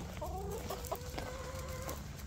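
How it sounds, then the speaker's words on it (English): Backyard chickens cluck and call in a cluster close by, with drawn-out tonal squawks and short clucks over a constant outdoor murmur. "This is what it's like when the chickens are all demanding something and I'm moving too slow."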